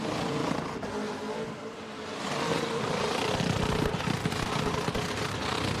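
A Fordson rat rod powered by a 6-litre LS V8 roars through its exhaust at a Summernats car festival, a loud, continuous rumble that swells and holds steady with crowd noise around it.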